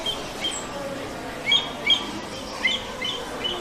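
Bird calls mixed into the soundtrack of a natural history museum exhibit in Salt Lake City, with a bird of prey among them; several short, sharp high cries repeat over a steady ambient bed.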